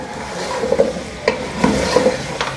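Chicken pieces fry in a pot with salt for aloo gosht, a steady loud sizzle broken by several scraping stirs of a spoon against the pot.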